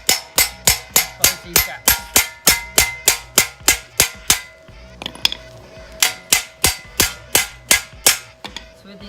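Hammer blows on sheet metal, closing gaps on a Nissan Micra ute build, ring out loud and close in a steady run of about twenty evenly spaced metallic strikes with a short pause midway and a brief spoken remark.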